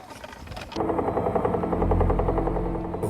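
A helicopter at the small heliport in Uummannaq, Greenland, starts up abruptly and keeps a loud, close, rapidly pulsing rotor chop with a whining engine underneath.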